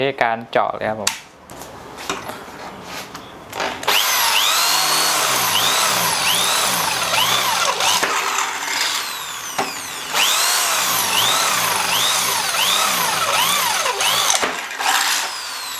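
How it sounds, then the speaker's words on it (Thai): A Makita M8103B 13 mm impact drill with a 6 mm bit whines and grinds loudly into steel in long sustained bursts, its pitch rising and falling, with brief talk at the start. "ต่อมาเราก็จะเจาะเหล็กกันแล้วครผม"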